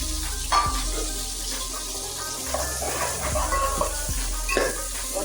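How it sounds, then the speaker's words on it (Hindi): Onions and spices fry slowly in a pan over low heat for green beans, a steady soft sizzle running throughout with occasional clinks and scrapes of a spoon against the pan. "5 मिनट तक भूनते हैं हल्की आंच पे"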